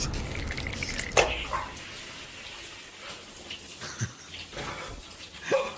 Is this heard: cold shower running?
yes